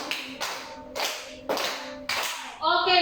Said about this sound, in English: Let's give another 5 claps to group 2.